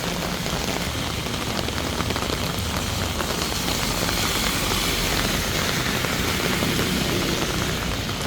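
Heavy rain pours down in Korea in a dense, unbroken hiss, steady and loud from start to finish, with no voices.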